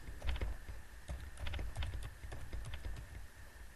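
Someone typing two words on a computer keyboard, with a rapid, steady patter of quiet, close key clicks and no talking.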